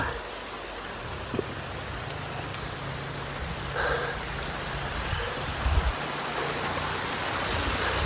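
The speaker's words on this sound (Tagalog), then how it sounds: "Waterfall" A waterfall in Cabuaan roars as a broad, steady rush of water heard up close, with faint voices and a few small knocks over the constant wash.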